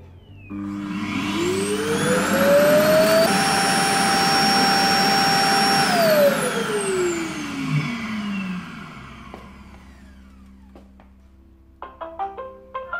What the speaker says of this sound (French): c'est le seul moment où Roomba fait vraiment un bruit d'aspirateur